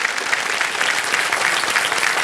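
A studio audience on a televised quiz show claps steadily in a dense burst of applause, with no voices over it.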